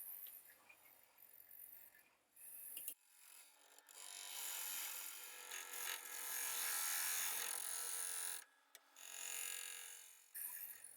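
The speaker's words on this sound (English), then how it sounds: "Now I've switched to a 5/8 bowl gouge to start the initial" Wooden bowl being turned on a lathe with a 5/8 bowl gouge, a close, loud scraping and shaving hiss in long sustained cuts, broken by brief pauses.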